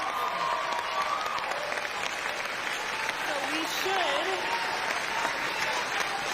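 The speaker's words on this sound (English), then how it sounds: "You can hear the crowd, though." Dense crowd noise at a political rally, with sustained cheering and applause-like roar filling the whole stretch and voices shouting and talking within it.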